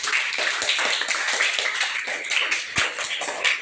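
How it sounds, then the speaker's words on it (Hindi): Children in a classroom clapping together, a dense, continuous patter of small hands at close range, steady throughout with a few sharper claps standing out. "उसके लिए जोरदार ताली बेटा"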